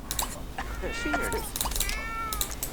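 A cat meows several times in a business-management video game, short high-pitched cries over a low background hum, with a faint voice underneath.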